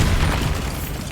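A Bombarda spell explodes in Hogwarts Legacy, a dense rumbling boom that fills the short moment and fades slightly, with no talk over it.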